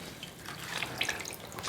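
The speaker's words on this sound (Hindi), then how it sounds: "और इस तरह से निचोड़ेंगे" A wet towel dipped in lukewarm water is wrung out lightly, giving a soft continuous trickle with a few faint drips and splashes close by.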